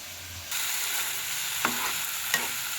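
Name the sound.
spice masala frying and being stirred in a pan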